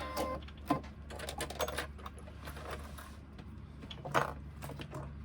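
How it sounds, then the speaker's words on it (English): Sewing machine stitching the side seam of a cotton pouch lining, a quiet, steady mechanical whir with light clicks and a couple of louder knocks, close by and without talk. "while I'm here I will stitch this side"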